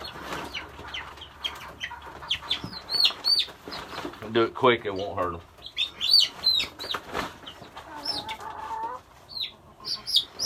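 Leghorn chickens clucking, squawking and flapping their wings as they are loaded into a bucket, a busy, close flurry of bird calls with people talking over and between them.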